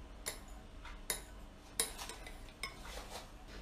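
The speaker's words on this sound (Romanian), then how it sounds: "Acum amestecăm." A spoon clinks and scrapes against a container while stirring homemade face cream of avocado oil, honey, beeswax and vitamin E, with four sharp, sparse taps over a faint steady background.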